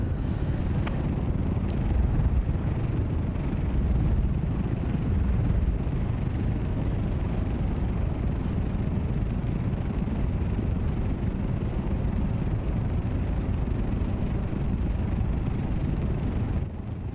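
Steady, loud aircraft engine roar in Microsoft Flight Simulator on Xbox, a continuous broadband drone holding unchanged for the whole stretch with a faint high whine above it and no talking.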